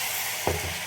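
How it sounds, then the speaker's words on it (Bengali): Water is poured into a pan of simmering soybean curry, giving a brief low splash and bubbling that rises through a steady sizzling hiss. "এবার বাকি যে জলটা সেটা আমি দিয়ে দিলাম"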